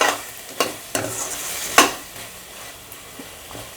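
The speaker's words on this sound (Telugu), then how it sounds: "ఈ విధంగా ఆయిల్ పైకి వచ్చేంత వరకు ఫ్రై చేసుకోవాలి" Prawns frying in oil with chilli flakes, giving a soft continuous sizzle broken by several sharp clacks of a spoon stirring against the pan, close up with no talking.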